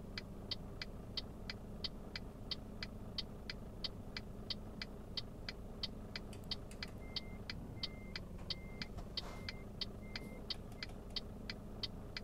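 Diesel truck engine in Euro Truck Simulator 2, a low steady rumble with a regular ticking indicator clicking over it, fairly quiet throughout.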